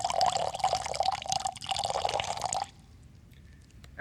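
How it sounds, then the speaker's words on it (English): Cider poured out for a family at a Christmas dinner table, a steady liquid stream with a bright ringing tone lasting over two seconds, then stopping abruptly, leaving a faint room hush. "Young Belinda poured out cider for all."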